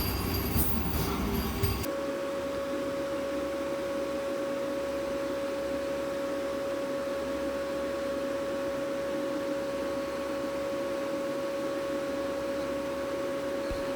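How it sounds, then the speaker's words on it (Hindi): Sabarmati Daulatpur Express train arriving, a loud continuous rumble of rolling wagons with a sustained metallic wheel squeal over the top, close by and without talk. "सामने ये साबरमती दौलतपुर एक्सप्रेस ट्रेन भी आ गई है"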